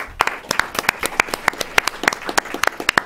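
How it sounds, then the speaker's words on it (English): A modest audience at a policy forum claps for an introduced panelist, with sharp individual claps landing in a quick, uneven patter that stays steady throughout. "Let us give big applause to Tom Finger."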